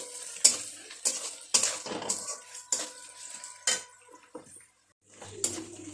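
Ginger is stirred in a cooking pot for chole bhature, with a series of sharp metal spoon scrapes and clinks against the pot at an uneven rhythm, close and clear, with a faint sizzle between strokes.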